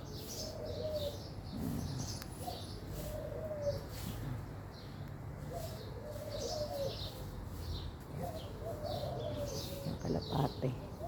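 A dove in a home garden coos in soft, repeated low phrases at a steady rhythm, moderately near, with light chirps from other birds and faint ambient rustle around it.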